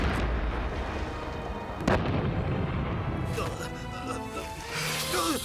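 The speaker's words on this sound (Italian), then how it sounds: "Secondo cannone! Fuoco!" A heavy shot from the second cannon in an animated Zorro series booms nearby, its rumble lingering under scattered clatter and a high whine near the end.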